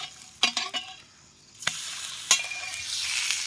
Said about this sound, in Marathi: आपला तवा चांगला तापलेला आहे खालच्या साईडने भाजला असेल आता आपण पलटी करून घेऊ